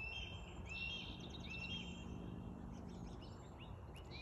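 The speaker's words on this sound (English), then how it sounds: "You can hear the baby hawks in the background just a screaming." Baby hawks scream in the distance outdoors, a series of thin high-pitched calls over a steady low background rumble, faint and far off.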